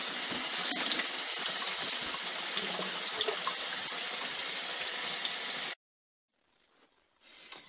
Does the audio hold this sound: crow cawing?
no